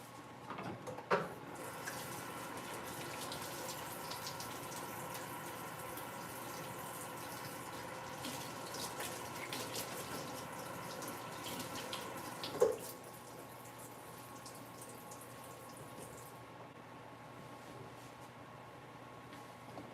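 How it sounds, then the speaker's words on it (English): A tap runs steadily at a sink while hands are washed in a kitchen during holiday macaron baking, a continuous moderate rush that holds for about twelve seconds, then drops to a quieter flow after a brief clunk. "Let me wash my hands really fast."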